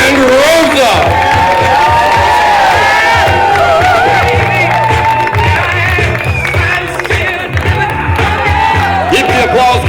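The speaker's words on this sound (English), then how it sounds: "Keep the applause going for them" Wedding guests at a Sonoma reception applaud and cheer the newly married couple, a loud sustained roar of clapping, whoops and crowd noise with voices and music mixed in throughout.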